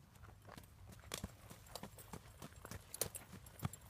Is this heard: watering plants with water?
no